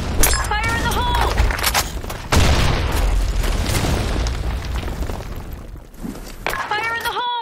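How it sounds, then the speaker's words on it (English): A grenade blows up in the shooter game Blackshot: a heavy boom at about two seconds followed by a long rumbling tail, with shouting voices before and after. "Grenade! Fire in the hole!"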